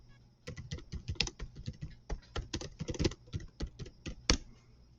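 Fingers typing on a computer keyboard to search for a poem, irregular quick clacking keystrokes at close range with brief pauses, alone without speech.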